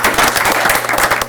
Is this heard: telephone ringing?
no